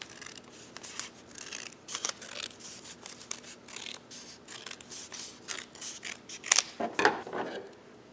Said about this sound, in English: just cutting off the ends